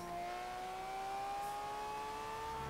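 Car engine in the Forza Horizon 3 racing game, a steady tonal drone holding roughly even pitch with a slight rise, loud and continuous with no talk over it.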